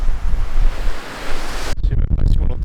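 Strong storm wind roars through trees in loud, buffeting gusts, blasting against the microphone and shifting abruptly partway through.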